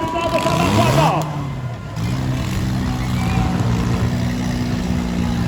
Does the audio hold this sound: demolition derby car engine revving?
yes